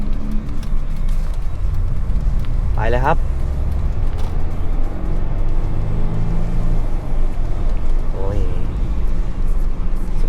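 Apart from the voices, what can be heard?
Mercedes-Benz E220 CDI W211 diesel car accelerating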